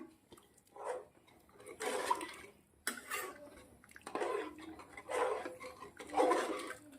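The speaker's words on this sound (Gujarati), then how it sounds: "થોડું પાણી નાખવું પડશે. થોડું પાણી નાખી દઉં છું." Water poured in short splashy bursts into a pressure cooker holding dal and rice for khichdi, several separate pours with pauses between, fairly close and moderately loud.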